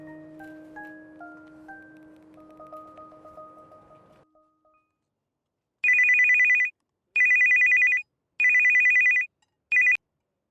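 A phone ringtone plays, first as a soft tonal melody, then as four loud, shrill electronic bursts in a regular ring pattern with short gaps between.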